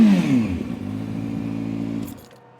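A Kawasaki ZX6R motorcycle with a newly installed aftermarket exhaust, its engine holding a loud, steady rev close by for about two seconds before dropping away, with no talking.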